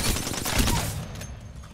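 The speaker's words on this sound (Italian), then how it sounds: "spara dritto sto coso, è OP." Gunfire from the video game Apex Legends, Season 18: a loud, dense burst of rapid shots that cuts off and decays over about a second, with no talk over it.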